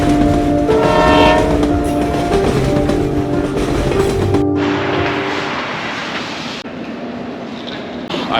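A train runs close by near London, a loud continuous rumble with rail clatter and a long horn-like tone early on, the roar thinning slightly toward the end.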